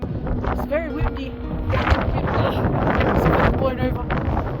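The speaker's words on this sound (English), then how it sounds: "It's very windy." Strong wind at a lookout in Tasmania buffets the microphone with loud, gusty roaring throughout, while a voice speaks underneath.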